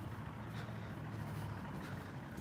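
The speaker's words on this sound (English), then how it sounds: "It's a loud car." A loud car drives along a street near an intersection, its engine a low, steady rumble that holds at constant level with no distinct pass-by swell.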